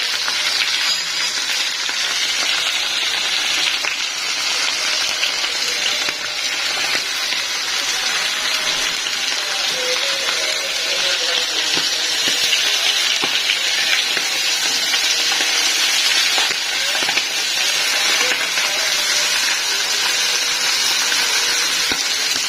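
Pabda fish fry in foaming mustard oil, making a steady, close hiss of bubbling sizzle that continues without letup, with a few faint clinks now and then.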